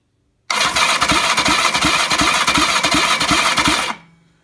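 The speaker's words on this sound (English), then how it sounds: "we'll do a starter test with full compression as it is at the moment" A starter motor cranks a BSA Fury SS motorcycle engine at full compression in a steady, rapid chugging rhythm for a few seconds, loud and close, then cuts off abruptly.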